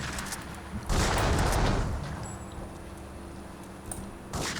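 A couple of loud, booming pistol gunshots ring out in the video game GTA 3, one long blast followed by a quieter gap and another shot at the end.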